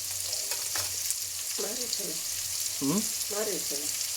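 Onions frying in a pan for lemon rice, giving a steady hiss of sizzling oil that runs the whole time, with a few short tonal murmurs rising over it.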